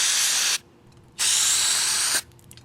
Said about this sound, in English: I'm going to go ahead and spray it out as well